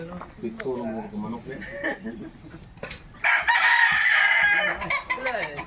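Chickens cluck nearby while a rooster crows loudly for a couple of seconds, with people talking in the background.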